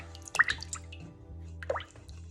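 Eggs for a ham quiche being cracked in and stirred into a butter-based filling: a few close, wet plops and squishy drips, with soft bursts of liquid mixing near the start and again near the end, no talk.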